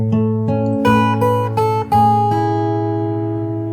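Fingerstyle acoustic guitar plays a short phrase from a song, with a few plucked notes and open strings ringing together, then a final chord left to decay, close and clear with no talking.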